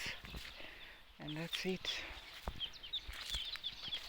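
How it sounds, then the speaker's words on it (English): Birds chirp faintly in trees around a village home, with a few short clucks early on, all under someone talking nearby. "You hear the birds, they are making some sounds"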